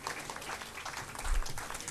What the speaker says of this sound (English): A huge round of applause for all our panel members, please